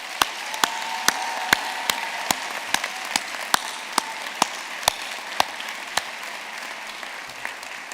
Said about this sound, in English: give their loved ones a round of applause